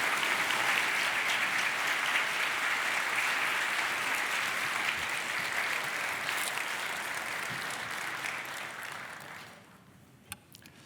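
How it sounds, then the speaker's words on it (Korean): A congregation at a Korean church dawn prayer service gives a big round of applause to welcome the preacher, steady full clapping that fades out over the last second or two. "우리 큰 박수로 환영하며 말씀을 듣겠습니다."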